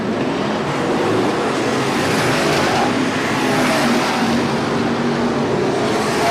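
IMCA Sport Modified race cars racing on a dirt track, a dense, loud, continuous roar of several engines blending together without a break.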